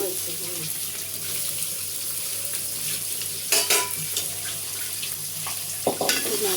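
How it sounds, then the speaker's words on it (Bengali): Garlic and onion sizzle in a pan of soybean and mustard oil for vegetable khichuri, a steady close frying hiss with stirring scrapes and a couple of sharp utensil clinks. "এখন রসুন দিয়ে দেব পেঁয়াজ দিলাম"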